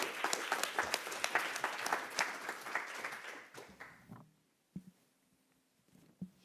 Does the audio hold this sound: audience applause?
yes